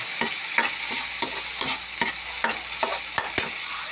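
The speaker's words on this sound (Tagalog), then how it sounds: "Haluin natin ng ganyan." Sautéed mung bean dish being stirred in a pot, with repeated scraping strokes of the spoon against the metal at an uneven rhythm over a soft steady sizzle, close and clear with no voices.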